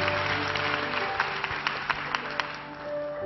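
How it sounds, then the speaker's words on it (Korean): A church congregation claps in thanks during a worship service, a continuous hall-filling wash of applause with a few sharper individual claps standing out near the end. "오늘 예배 임하신 살아계신 하나님께 감사의 박수 돌려드리시겠습니다"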